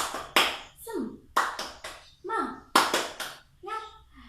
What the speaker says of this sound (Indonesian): Tepuk semangat gimana? Ya seperti ini. Tepuk semangat.